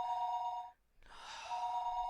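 An old telephone rings in the Higurashi When They Cry video game, a steady electronic bell tone that stops briefly and then resumes, clear and alone.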